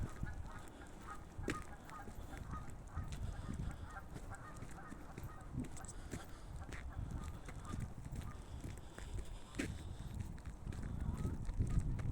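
Geese honk repeatedly at a distance, a steady chorus of calls over a noisy outdoor background.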